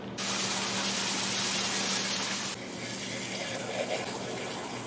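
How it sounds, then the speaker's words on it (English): Water sprays hard onto drainage gravel being washed for a biosand filter, a loud continuous hiss that shifts to a softer, lower wash partway through. "And so I'm going to wash it again until it comes clear."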